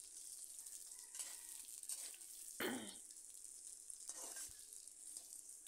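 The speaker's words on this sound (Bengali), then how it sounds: "তেল গরম হওয়ার পর আমি প্রথমে পটল ভেজে নেব।" Pointed gourd (potol) pieces frying in hot oil for a vegetarian potol and potato curry, a soft steady sizzle with a few louder bursts when the pieces are stirred.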